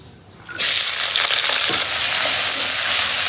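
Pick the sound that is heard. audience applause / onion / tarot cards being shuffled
onion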